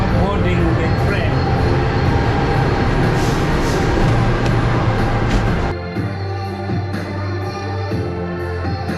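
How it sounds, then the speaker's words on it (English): Passenger train on the New York to Washington DC route, with a steady loud rolling rumble that shifts to a quieter interior drone partway through, a voice talking over it. "I'm now boarding the train."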